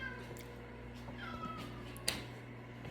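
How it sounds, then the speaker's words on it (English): Several cats meow for food indoors, faint and intermittent over a steady low hum, with a sharp click near the end. "these cats are about to drive me up the wall right now because they're meowing, wanting food"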